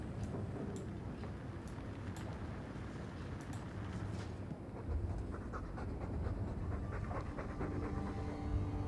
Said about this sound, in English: Noisy dog breath, day in, day out.